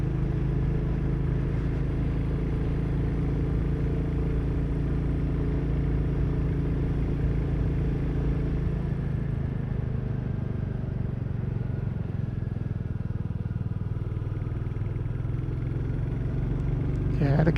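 A Royal Enfield Classic 350 motorcycle is being ridden, its single-cylinder engine holding a loud, steady low drone at constant speed with wind rushing past and no gear changes.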